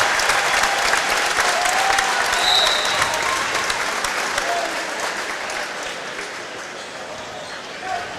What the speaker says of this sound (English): He will spell Landon Lee to a standing ovation.